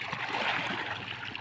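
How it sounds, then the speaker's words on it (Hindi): Cold, clean water from a turbine pump pours steadily into an outdoor swimming pool, a continuous close rushing and splashing stream with no talking. "बिल्कुल साफ़ सुथरा पानी है और टरबाइन का आ रहा है पीछे से ठंडा ठंडा"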